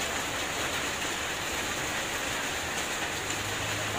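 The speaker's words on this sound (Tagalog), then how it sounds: "inabutan tayo ng ulan mga chong" Heavy rain pouring down outdoors, a dense, steady hiss of drops that stays even and unbroken from start to finish, with no voices present.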